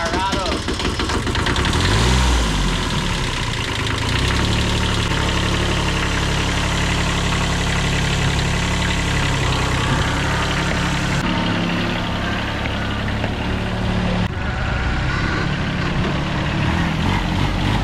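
An old Japanese tractor engine cranks and fires up near the start, then settles into a steady, loud, low knocking idle that runs throughout, close to the microphone.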